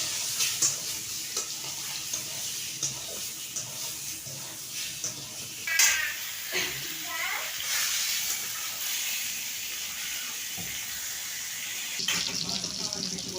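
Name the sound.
pointed gourd (potol) frying and being stirred in a pan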